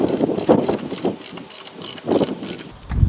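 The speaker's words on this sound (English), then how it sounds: "we just want to keep tightening it until we get a real click from the torque wrench" A torque wrench ratchets as it tightens the rear axle nut on a Suzuki GSX650F motorcycle. It makes several quick bursts of close, rhythmic clicking separated by brief pauses, with no talk.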